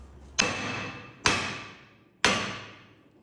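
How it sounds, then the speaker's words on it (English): Three sharp metallic hammer blows strike the front brake rotor of a Toyota Corolla, each ringing briefly and decaying, evenly spaced about a second apart, close up with no talking. "Normally all you have to do is hit the rotor and it'll end up popping off."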